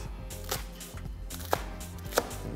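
A knife chops green onion into large pieces on a board, making a few soft thuds spread across a couple of seconds, fairly quiet.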